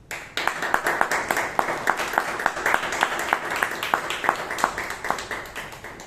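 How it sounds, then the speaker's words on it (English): Applause from an online Toastmasters meeting comes through as a steady run of separate claps at a moderate, even pace for several seconds, fairly close and clear, with no talking. "Can we have another round of applause to all those who came down?"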